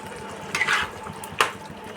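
Fried potatoes go into a simmering yogurt-based curry over low heat, a soft bubbling hiss broken by two short clattering bursts of spoon against pan.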